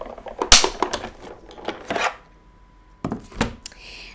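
A die-cutting machine presses paper through a Nestabilities die, giving a few sharp crunching, chopping bursts near and loud, with a quiet gap between the later passes.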